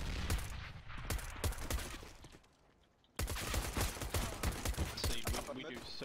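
Dense, rapid gunfire crackles loudly in a CS:GO competitive match, the fake shots of a decoy grenade, broken by a brief quieter gap before another sustained burst of shots.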